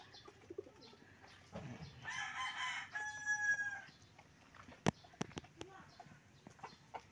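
Gamecocks kept for cockfighting crow in a farmyard, one drawn-out crow near the start followed by a second, with faint background chatter and scattered clucks, knocks and clicks afterward.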